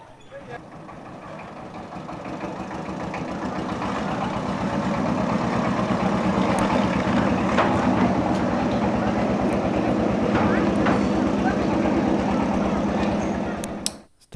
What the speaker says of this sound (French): C'est un moteur diesel.